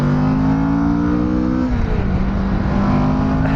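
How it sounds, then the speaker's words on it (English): A Kawasaki Vulcan S motorcycle's engine drones loud and close, with a steady exhaust note that dips slightly midway and then holds. "I don't know if you guys are hearing that exhaust note."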